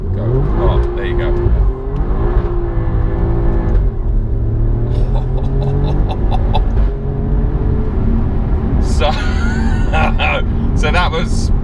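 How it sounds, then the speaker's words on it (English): A 503 bhp Alfa Romeo Giulia Quadrifoglio engine roars loudly as it accelerates hard from 0 to 70 mph, its pitch climbing and dropping through gear shifts, with a sharp tire squeal near the end. "that was 0-70 miles an hour and a lot of tire smoke."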